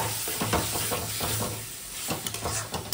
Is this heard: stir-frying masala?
yes